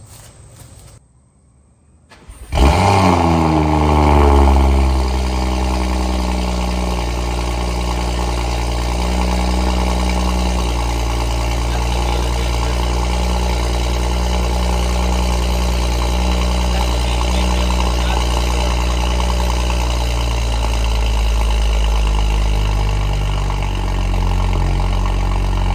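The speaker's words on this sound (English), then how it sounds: "Car's cold again, so we're getting a cold start outside." A BMW 335 with a catless downpipe fires up from cold after a brief crank, then settles into a loud, raspy high idle with a steady, deep exhaust drone that slowly eases down.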